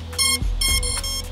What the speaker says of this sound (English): It causes the ESCs to beep,